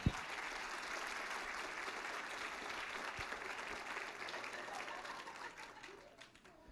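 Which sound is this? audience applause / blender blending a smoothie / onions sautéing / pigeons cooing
audience applause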